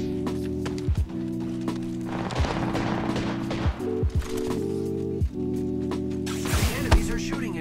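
Rapid bursts of Rampage light machine gun fire in the video game Apex Legends, sharp repeated shots over a dense, loud game mix of droning engine-like tones and clattering footsteps.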